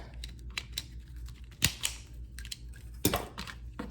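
Wire snipped with cutters during a car electrical project, two sharp close clicks standing out among faint handling rattles and small taps in a quiet room.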